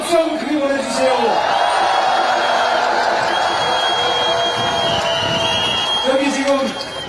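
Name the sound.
audience applause and cheering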